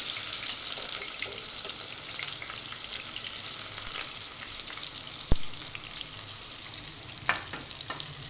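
Half an onion frying in oil for Sindhi biryani, headed toward golden: a steady, close hissing sizzle with faint stirring clicks and one sharp knock partway through.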